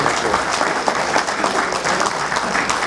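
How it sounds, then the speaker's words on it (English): Steady audience applause at a San Marino City Club gathering, a dense wash of many hands clapping close and fairly loud, holding evenly for about three seconds with no talk over it. "Please give a warm round of applause for my dear friend, Aaron Weiss."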